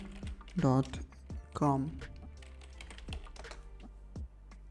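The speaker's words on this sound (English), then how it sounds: "Now here we need to type adobe.com." Someone types adobe.com on a computer keyboard, a quick run of close, light key clicks with a brief voice-like sound near the start.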